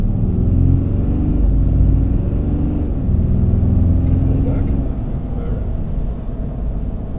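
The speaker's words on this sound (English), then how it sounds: "it sounds pretty good for stock exhaust" A 2026 Ram Mega Cab work truck with a 6.7L Cummins diesel and stock exhaust rumbles with a deep, steady engine drone that rises slightly then eases off, heard up close.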